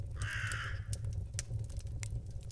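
A raven croaks in a reading of Poe's The Raven: one harsh rasping caw near the start, then a quieter low murmuring bed with faint scattered clicks, no talking.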